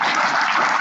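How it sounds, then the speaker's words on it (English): Audience giving a round of applause, a dense, even wash of clapping hands that holds steady for under a second with no voices. "I want to see if you can hear a round of applause."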